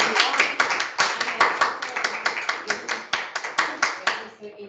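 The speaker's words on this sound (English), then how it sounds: "You can see applause from other people online." Participants at an online academic seminar applaud, a quick series of close, crisp hand claps in a steady rhythm that tapers off at the end.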